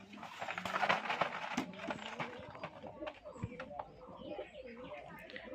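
Giribaz pigeons coo in soft, repeated throaty calls close by, with occasional wing flutters and shuffling, mixed with someone talking throughout.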